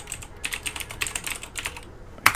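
Close-up key presses on a computer keyboard while a password is entered, a quick irregular run of clicks ending in one sharper tap.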